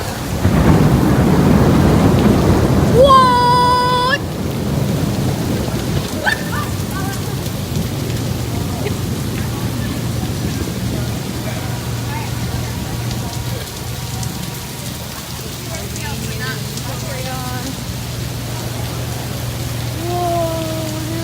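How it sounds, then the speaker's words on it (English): Thunder rumbles close by during a steady downpour of rain, with a brief low rolling boom early on and constant hissing rainfall throughout, while a voice speaks briefly. "You get the thunder?"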